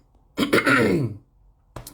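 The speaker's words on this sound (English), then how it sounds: "as I'm clearing my throat" A single close, loud throat clearing, a rough guttural rasp lasting under a second, followed by a brief short sound.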